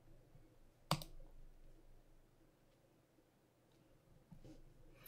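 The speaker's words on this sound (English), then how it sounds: "And then I'll just click OK. So when I click OK, I'll click save here." A single sharp mouse click stands out close by, with fainter clicks near the end over a quiet room and no talking.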